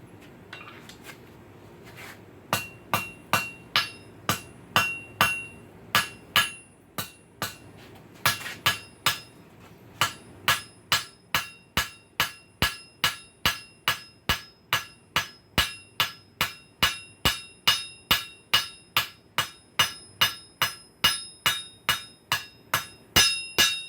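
A cross peen hammer strikes hot metal on an anvil to spread it wider, ringing out in a long run of sharp, evenly spaced blows after a few scattered opening hits, loud and close with no talking.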